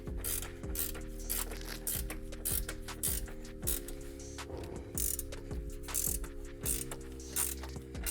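A ratchet clicks rapidly and steadily while tightening the nut on a Camaro toe link rod, with rhythmic bursts of pawl clicks and brief pauses between strokes, heard up close over a constant low hum.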